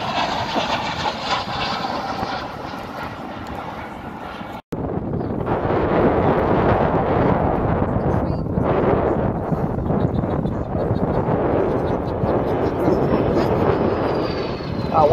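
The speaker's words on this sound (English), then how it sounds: "Marvel piece of vintage jet flying." A vintage Vampire jet, specially painted for the RAF's 100th anniversary, flies at the 2018 Southport Air Show with a loud, steady, wide roar that cuts out for an instant and then swells back, close and overpowering.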